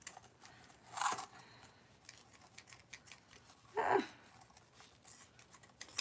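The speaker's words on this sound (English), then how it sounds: "these are not my fabric scissors." Non-fabric scissors cutting during a craft session, two short crisp snips spaced a few seconds apart against a quiet background.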